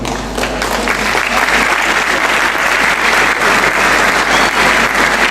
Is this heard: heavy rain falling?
no